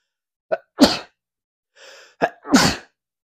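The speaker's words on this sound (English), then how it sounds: "I'm about to sneeze." Two sharp sneezes, each a quick inhale then a forceful burst, about two seconds apart, close and loud, with a soft breathy hum between them.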